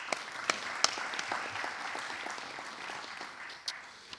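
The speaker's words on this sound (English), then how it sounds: "So let's give a round of applause for Little Rock in the house." An audience at a city, police and school partnership event claps for several seconds, a fairly faint, scattered patter of hands with a few sharper individual claps standing out.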